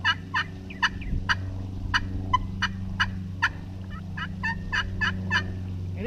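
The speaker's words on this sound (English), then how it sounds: "I've had an old call here, an old slate call." An old slate turkey call played by hand gives a series of sharp, regularly spaced yelps, fairly close and clear over a low steady hum, with no talking.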